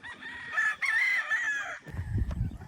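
Hens on a farm call loudly up close, a drawn-out wavering cackle followed by lower, throaty clucking sounds.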